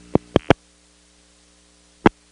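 An ANI-C automatic number identification signal in a 1975 Bell step-by-step telephone office in Greenfield, Massachusetts, heard as three quick pulses of tone, a pause, and then one more pulse over a faint line hum.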